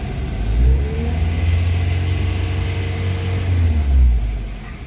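A Honda Jazz engine, just repaired after a failed IACP sensor, revs up under throttle, rises and falls in two swells, and stays loud and close throughout, with a steady mid-pitched drone and no talking.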